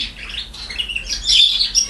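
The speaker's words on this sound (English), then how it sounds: "All my birds are singing out in triumph, and I'm not going to stop them today." Pet birds sing in a close, loud flurry of high chirps and tweets, busy and continuous with brief squawks, and no one speaks.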